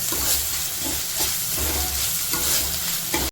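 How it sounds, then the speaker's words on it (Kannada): Finely chopped tomatoes frying in oil in a pan for chicken curry, a steady loud sizzle and hiss with soft stirring scrapes throughout. "ಸಣ್ಣದಾಗಿ ಕಟ್ ಮಾಡ್ಕೊಂಡು ಹಾಕೋಬೇಕು ಟೊಮೆಟೊ. ಇದು ಚೆನ್ನಾಗಿ ಸಾಫ್ಟ್ ಆಗೋವರೆಗೂ ಬೇಯಿಸ್ಕೊಳ್ಳೋಣ."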